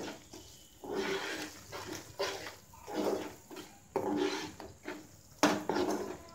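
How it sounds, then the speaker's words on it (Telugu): Grated coconut with cardamom powder stirred into sugar syrup in a pan for coconut burfi, a series of soft rhythmic scraping and rubbing strokes, close and fairly quiet. "కొద్దిగా ఇలాచీ పౌడర్ వేసుకుని కొబ్బరిని కూడా వేసుకుని బాగా కలుపుకోవాలి"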